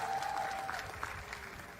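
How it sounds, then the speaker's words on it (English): Short burst of audience applause at a university graduation ceremony, steady massed clapping at moderate level, slightly distant. "Let's give them a round of applause for joining us."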